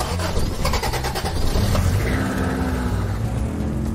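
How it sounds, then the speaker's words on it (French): A car engine turns over and catches, a short burst of cranking settling into a steady mid-pitched hum that stays loud and close for the remaining seconds. "qui alluma le moteur"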